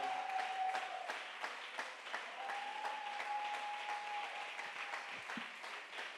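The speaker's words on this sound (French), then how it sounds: "on va commencer à célébrer en acclamant le Seigneur pour sa parole" A church congregation claps steadily in praise of the Lord, the sustained applause filling the room at moderate distance while a sung or spoken tone drifts faintly underneath.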